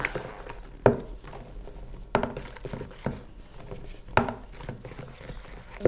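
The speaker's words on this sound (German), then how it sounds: "jetzt rühre ich erstmal ein bisschen Mehl rein" Flour and oil are worked by hand into a yeast dough for beljashi, producing soft, sticky squelches and slaps at irregular intervals about a second apart, close and moderately loud, with no talking.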